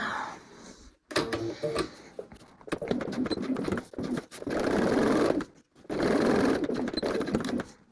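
A sewing machine stitches a raw-edge card wallet in loud, close bursts of rapid needle chatter, broken by short pauses as the fabric is repositioned, with no talking.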